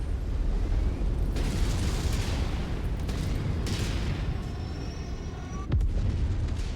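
Rumbling explosions as a target is destroyed in the modded MechWarrior 5 video game, a dense, loud, continuous roar of blasts and debris with a sharp crack near the end.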